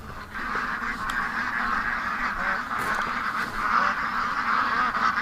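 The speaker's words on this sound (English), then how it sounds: "Ducks are upset" Agitated domestic ducks quack steadily in a noisy, continuous chorus, close and fairly loud, right after gunshots fired to scare off a coyote.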